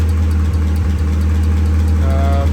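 A stock car engine ticks over at idle with a deep, steady rumble and a slightly uneven, knocking undertone, close and loud, with a faint whine rising near the end and no voices.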